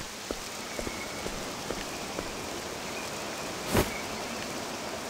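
Steady rain in Octopath Traveler 2 pattering as a broad, even hiss, with a few scattered drops tapping and one brief louder splash near the end.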